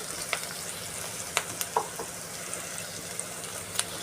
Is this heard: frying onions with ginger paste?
yes